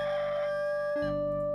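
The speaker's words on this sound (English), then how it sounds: "Isn't that a little bit late for the rooster to crow?" A synthesized rooster crow from the 1995 DOS video game Wolfsbane, a buzzy, tonal electronic cock-a-doodle-doo that holds steady, then drops to a lower pitch partway through, loud and alone.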